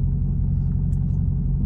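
A Dodge Challenger Hellcat Redeye Super Stock creeps slowly forward at a drag strip, its engine giving a deep, steady low rumble at close range with no voices.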